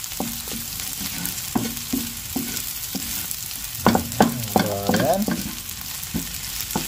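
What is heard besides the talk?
sautéing garlic and onions in a pan on the stove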